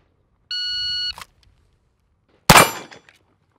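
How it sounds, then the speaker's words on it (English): A handgun's slide snaps forward as the slide release lever is pressed, a single sharp metallic clack heard close up, preceded by a brief electronic beep and followed by a short rattle. "you can press the slide release lever here"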